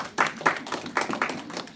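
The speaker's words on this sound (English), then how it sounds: "Give her a big round of applause." An audience claps in a brief round of applause for a little girl, a dense patter of hands rising in a couple of louder surges across roughly two seconds.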